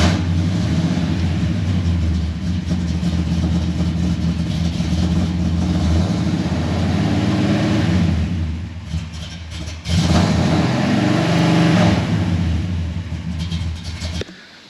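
A 1972 Chevy Suburban's engine idles with a steady, loud low rumble, close by, running rich on a fresh heat cycle, with a brief dip and swell in the engine note partway through.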